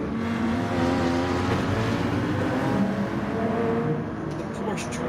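Several race car engines drone and rev together during a Gran Turismo race at St. Croix, with a Honda, a Toyota, a Citroen, a Porsche and a Lamborghini in the field. The sound is a steady, dense engine roar, with a voice talking over it.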